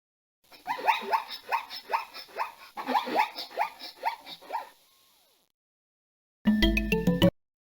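Zebra call from an animal-vocabulary PC game: a run of rough, barking yelps repeated about eight times in quick succession for several seconds, fairly loud and alone, followed after a pause by a short burst of game music.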